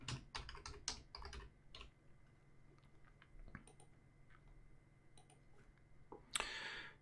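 Someone types a group name on a computer keyboard in quiet, close clusters of clicks with short pauses, ending in a louder final keystroke.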